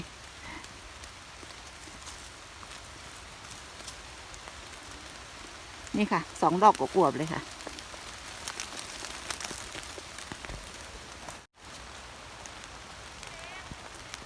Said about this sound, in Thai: ฝน ตกค่ะรีบหน่อย ค่ะ